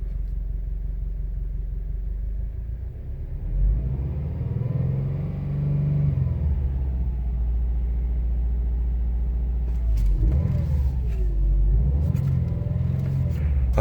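A 2017–2018 Subaru WRX STI with an aftermarket airbox idles low and rough, a steady deep rumble swelling into a couple of brief revs, recorded close from inside or beside the car.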